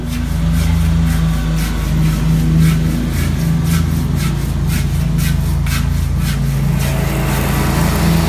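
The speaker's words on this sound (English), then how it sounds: "Trying to make a YouTube video here and these guys are cutting grass." A lawn mower cutting grass nearby, a steady low engine drone running continuously beneath faint scraping and rubbing from garage work with a large hybrid sharpening stone.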